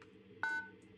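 A phone keypad in a horror video game gives off one clear dialing tone near the middle, with fainter blips before and after over a low steady background hum.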